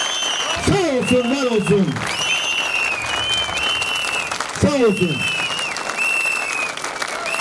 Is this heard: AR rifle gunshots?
no